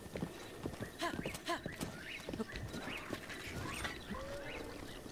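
A horse's hooves clip-clopping in the video game Zelda: Breath of the Wild, a quick uneven run of hollow hoof strikes, fairly quiet, with faint snorting sounds mixed in.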